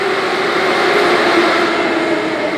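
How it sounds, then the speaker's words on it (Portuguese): Steady roar of a Moscow metro train and station, a dense continuous rumble with a faint hum, filling the whole moment at an even loudness without speech. "Esse é o metrô de Moscou."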